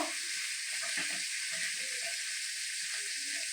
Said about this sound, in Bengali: সামান্য নুন ও গুড় দিয়ে আগে কষিয়ে নিই মশলাটা।